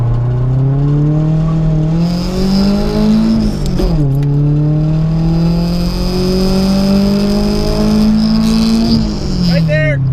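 A 155-horsepower Nissan 240SX accelerating hard from 0 to 60, engine note climbing steadily through the gears with two clear shift dips, loud and close from inside the car, with a voice talking over it.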